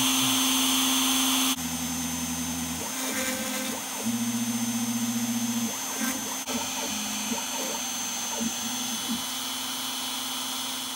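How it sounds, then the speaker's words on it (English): A CNC router spindle carves wood in a two-stage carving job, giving a steady loud whine with a strong tonal hum that shifts pitch as the bit moves through the material, running alone without talk. "now all I can do is turn on the spindle and"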